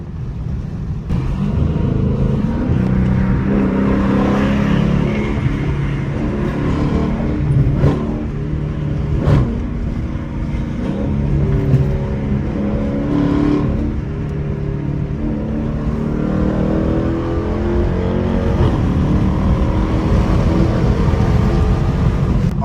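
A Dodge Challenger R/T fitted with Scat Pack engine covers rumbles steadily throughout, its engine note swelling and easing with a few revs, loud and close with no talking.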